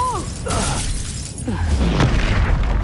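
A Confringo spell explosion in the video game Hogwarts Legacy, with booming, shattering bursts and crackling debris, loud and close, with whooshing spell sounds mixed in.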